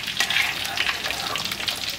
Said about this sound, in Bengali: আমার চিকেনের পিসগুলো ভাজা হয়ে গেছে,